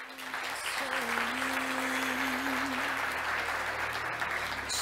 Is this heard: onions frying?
no